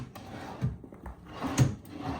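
A wooden dresser drawer in a Disney resort hotel room slides open or shut, a couple of soft nearby rubs and thumps with room tone between them.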